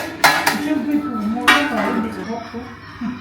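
A spoon scrapes and clinks against a bowl while mixing Maggi charmuri, with a few sharp metallic taps and softer stirring scrapes close by over a short stretch.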